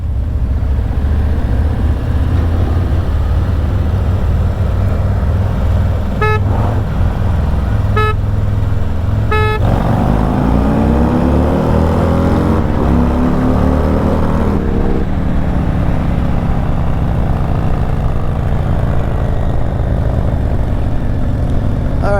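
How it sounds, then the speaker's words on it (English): A motorcycle fitted with a Stage II performance kit accelerates hard in second gear, engine note climbing steadily and loud up close, with rushing wind and a few short horn-like toots partway through. "as the higher the RPMs rose, this bike started pulling away a little bit"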